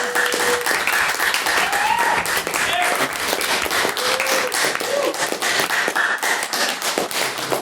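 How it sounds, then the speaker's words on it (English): A debating society audience applauds the announced winning team, dense sustained clapping filling the hall with a few voices and whistles mixed in. "Can we please get a round of applause?"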